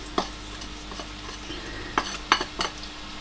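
Chicken breast sears in a pan under a soft, steady sizzle, broken by several sharp metallic clinks and scrapes from a utensil against the pan.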